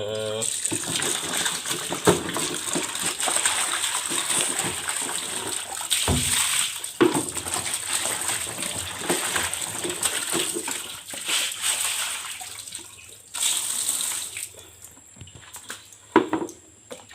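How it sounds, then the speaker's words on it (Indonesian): Freshly picked guavas washed in water, with running and sloshing water, splashes and hard knocks of fruit against a container, close by and continuous. "Kita cuci jambunya."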